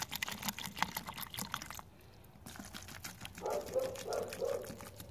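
Pink potassium permanganate solution is poured over separated garlic cloves, giving a soft, close, continuous liquid pour and trickle with one brief pause partway through.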